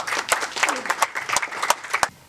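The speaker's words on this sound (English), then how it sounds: "a huge round of applause for Mr. Vinayak." Scattered claps from an audience at an Indian harmonica day celebration, a modest round of distinct hand claps with a voice audible underneath.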